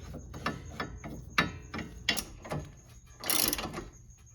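A ratchet wrench tightens rusty lower control arm bolts on a 2004 Honda Odyssey, a series of separate clicking pawl strokes in an uneven rhythm, close by, ending in a longer burst of rapid ratcheting.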